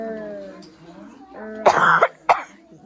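Someone speaks briefly, then two harsh coughs follow close together, near and fairly loud.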